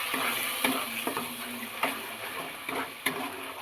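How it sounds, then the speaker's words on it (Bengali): A spice paste with tomato sauce is sautéed in a pan for a crab and potato curry, a quiet steady sizzle punctuated by a few distinct spatula scrapes and taps, nearby with no speech. "এবার মশলাটাকে ভালো করে কষাবো"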